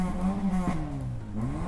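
A green 2013 Honda Jazz Hybrid with about 100,000 km, its engine running at close range with a steady low hum and a couple of brief rises in pitch.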